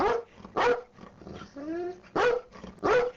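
An eight-year-old pet dog barks answers to a counting trick: two sharp, close barks, a pause while someone speaks, then two more barks.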